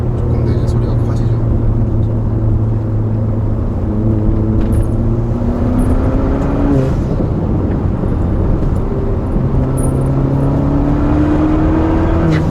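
A 2019 Hyundai Veloster 1.6T with a manual gearbox revs to around 4000 rpm, its engine drone rising and steadying in pitch across several climbs, loud and close, with someone talking over it.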